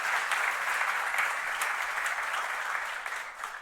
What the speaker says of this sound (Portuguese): Ainda pode dar uma salva de palmas a Jesus.